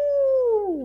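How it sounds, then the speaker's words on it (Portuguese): A single wolf howl, loud and close, holding a steady pitch before sliding downward and fading as the pained cry trails off, with no voices over it. "Uivando de dor, o lobo correu pela floresta."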